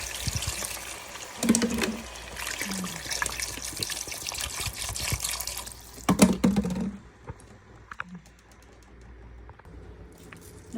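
Water pours into a cooking pot holding fried chicken in a loud, splashing stream that stops partway through, followed by quieter clinks and light handling sounds.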